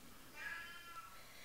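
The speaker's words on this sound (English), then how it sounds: "If you can hear the weird sound, it's the cat screaming." A cat lets out one short, faint, high screech somewhere in the distance of a quiet room, drawn out for about a second.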